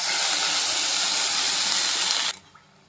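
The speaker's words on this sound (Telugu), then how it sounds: "ఒక కప్పు షుగర్కి 3/4 కప్పు వాటర్ యాడ్ చేస్తున్నాను నేను" Water is poured into a pan of sugar for Karachi halwa, three-quarters of a cup to one cup of sugar, as a loud, close, continuous rushing hiss that cuts off abruptly near the end.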